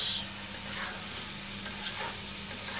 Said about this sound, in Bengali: জিরাটাকে দিয়ে আবার কিছুক্ষণ নাড়াচাড়া দিয়ে দিচ্ছি